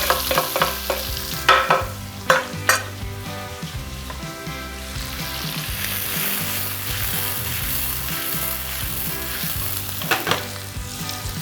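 Grated garlic and ginger sizzle in a hot pan with steady, loud frying hiss. Several sharp stirring clatters sound near the start and again near the end, over faint background music.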